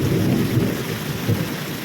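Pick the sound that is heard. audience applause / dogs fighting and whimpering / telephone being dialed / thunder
thunder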